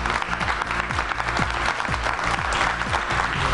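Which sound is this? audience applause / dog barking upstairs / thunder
audience applause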